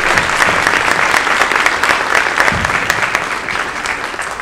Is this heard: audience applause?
yes